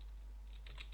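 Typing on a poor-quality computer keyboard, with faint scattered key clicks that cluster more densely toward the end, heard over a steady low hum.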